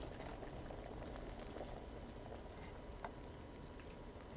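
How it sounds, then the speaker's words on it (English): Soft, continuous bubbling of an alchemy potion boiling in a cauldron in Kingdom Come: Deliverance, faint liquid burbling with occasional small pops and ticks. "Gotta get boiling."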